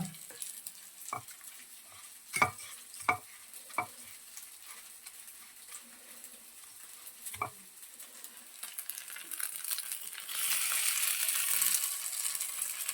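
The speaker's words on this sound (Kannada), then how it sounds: "ಶಾಲೋ ಫ್ರೈಯೇ ಮಾಡ್ತಿರೋದು ನಾನು" Breadcrumb-coated paneer cubes shallow fry in a pan, a quiet, close sizzle broken by a few sharp taps and clinks of pieces being placed, the hiss swelling louder near the end.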